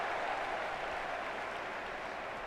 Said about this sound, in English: Anytime Rodri gets near the ball, huge cheer.